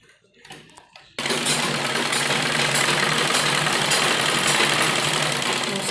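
Sewing machine stitching the sleeve of a heavy-size printed kurti, running in one steady, loud, continuous whir after about a second of quiet handling noise.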